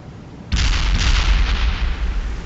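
An artillery barrage in World in Conflict crashes in suddenly with loud, booming impacts that roll on continuously, dense and heavy across the low end.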